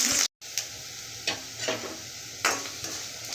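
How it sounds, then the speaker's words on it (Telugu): Curry leaves and chopped onions sizzle in hot oil in a pan while being stirred, cooking for a ridge gourd and tomato pulusu. A close, steady fry is broken by a few scraping stirs. "కొద్దిగా కరివేపాకు వేసుకోవాలండి ఇవి ఒకరో బ్రౌన్ కలర్ రావాలండి"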